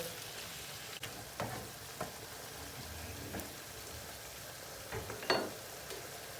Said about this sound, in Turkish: Ortalama 2 dakika salçayla beraber hepsini kavuracağız.